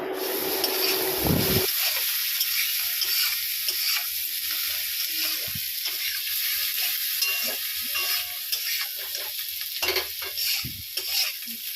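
Two chopped tomatoes and four green chillies frying in a pan, a steady close sizzle with scraping, stirring rubs and occasional utensil knocks throughout, no voices.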